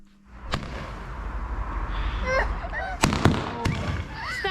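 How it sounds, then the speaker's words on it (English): Fireworks burst outdoors on Bonfire Night, with several sharp loud bangs, crackles and whistling rising fizzes spread across a few seconds over a steady background hiss. "Look this firework now"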